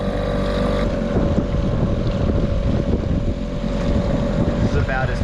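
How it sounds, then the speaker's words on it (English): A boat's outboard motor runs steadily on the water during a fishing trip, a loud continuous engine drone with wind buffeting the microphone and a voice speaking briefly over it. "the motor's running well"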